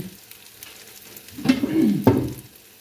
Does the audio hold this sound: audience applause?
no